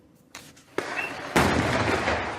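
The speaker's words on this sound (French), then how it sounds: "Une forte explosion." Strong explosion during a police assault, a series of sharp, loud bangs that build to a big final blast with a long rumbling tail.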